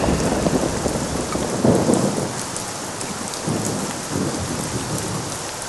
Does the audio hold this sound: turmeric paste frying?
no